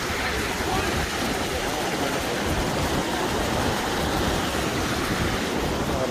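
Waterfall rushing beside a hiking trail near Alberta Falls, a loud, constant broadband roar of falling water with no breaks.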